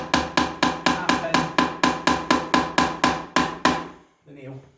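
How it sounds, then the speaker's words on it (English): A hammer taps a nail into a wooden cross, about fourteen even, crisp strikes in a steady rhythm, close and clear, then a brief pause with a faint muffled sound. "Hammer, nail,"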